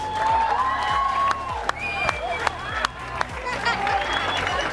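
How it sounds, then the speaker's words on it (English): Crowd at a city cycling race event applauding and cheering in a loud, continuous wash, with voices and shouts mixed in and a few sharp peaks standing out. "I think that deserves a huge round of applause."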